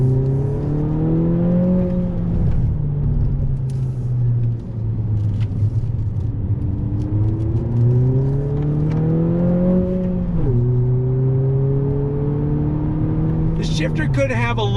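A 2020 Honda Civic Si, front-wheel drive, accelerates through a roundabout, its engine note rising and falling with each gear and throttle change, a loud steady in-cabin drone throughout.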